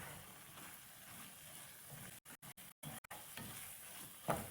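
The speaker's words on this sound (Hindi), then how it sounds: "आँच तेज करके इसको फ्राई कर लेते हैं।" Qeema (minced meat) frying on high heat makes a faint, steady sizzle with soft stirring. A few brief dropouts break the sound, then a small clink near the end.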